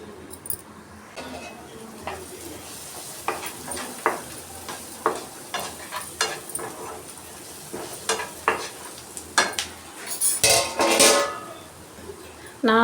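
Vegetables sautéing in a pan in a home kitchen, a steady soft sizzle with scattered utensil clinks and pan clatter, a busier burst of stirring near the end.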